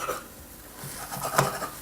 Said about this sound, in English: we'll cut this into small pieces so that it gets fit into our bread slice